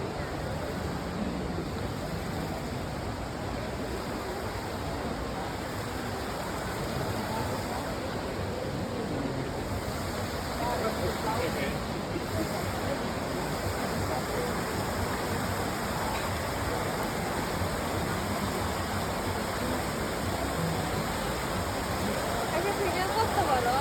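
Water from a fountain in Rome pours and splashes in a constant, dense rush, steady and moderately loud throughout, like a small waterfall with faint crowd murmur beneath.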